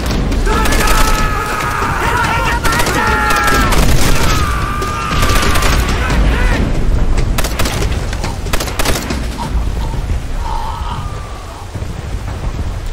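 Machine gun fire from a fortified bunker in Call of Duty: World at War, dense rattling bursts mixed with booms, explosions and a steady battle roar, loud and continuous, with shouted voices in the mix.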